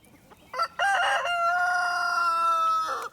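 A chicken in a backyard flock lets out one loud, close, drawn-out crowing call, with short clucks just before and at the end.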